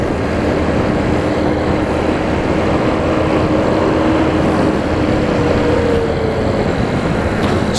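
A Honda Biz motorcycle running steadily just after a gear change, its engine a continuous, loud drone with a faint rising tone, heard close with wind noise throughout and no talk.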